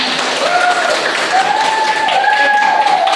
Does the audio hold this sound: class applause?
yes